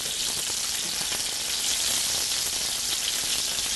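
Scallops sear in a hot pan, giving a loud, continuous hiss and crackle of oil, close and alone throughout.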